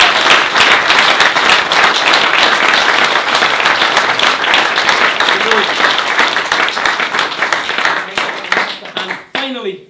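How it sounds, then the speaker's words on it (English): Wedding guests applaud a speaker in a sustained burst of clapping, dense and fairly loud in a room, continuing for several seconds before tapering off as a voice begins. "if I could have a round of applause for him before he does his speech"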